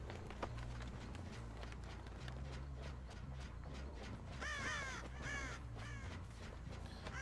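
Crows cawing in the horror game Dead by Daylight, a few harsh scratchy calls rising over a steady low game ambience with faint rustling and thumps, moderately quiet.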